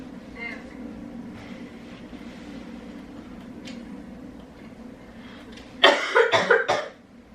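A young woman coughs deliberately in a short burst of four or five harsh coughs near the end, after a stretch of quiet room tone and game background sound.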